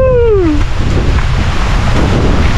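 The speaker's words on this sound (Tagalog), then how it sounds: "Lakas ang ulan, mga karapas." Heavy rain pours steadily over a fish pond at night, a dense, loud hiss with low rumble, opened by a brief descending whistle-like tone.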